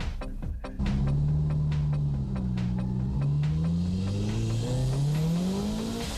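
A Nissan S15 race car tuned to over 380 horsepower accelerating hard at Fuji, the engine note rising steadily through the gears, loud and close, with a brief burst of clatter at the start.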